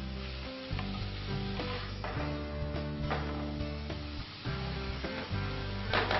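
Desalted, cooked, shredded salted fish is stirred into a mixture in a hot pan, giving a continuous close sizzle with scraping stirs beneath background music.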